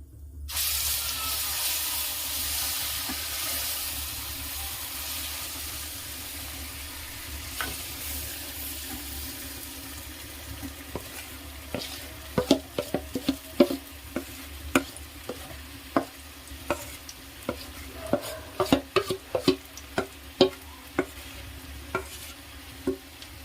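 Butter sizzles in hot oil over a low gas flame for pora pitha, starting as a soft hiss and turning into a rising run of sharp spitting crackles and pops close by.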